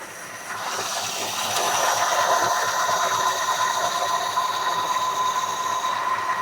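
A 1956 Chevy engine idles in drive with a steady broadband rumble and hiss. It climbs in level during the first two seconds as it is brought up, then holds a constant drone with a faint whine, and no one speaks.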